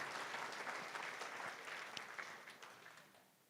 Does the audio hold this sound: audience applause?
yes